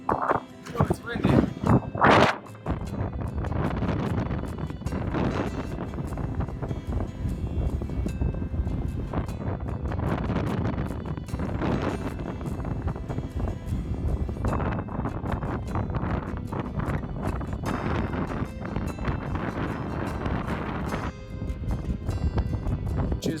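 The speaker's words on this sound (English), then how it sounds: "Oh, it's windy." Strong wind rushes across a mountain summit in deep snow, a loud steady roar with gusty swells throughout, with a person talking over it.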